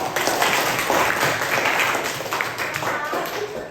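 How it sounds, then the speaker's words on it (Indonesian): Sustained applause from a crowd, a dense steady clatter of many hands clapping that fills the space for several seconds. "Ya, tepuk tangan."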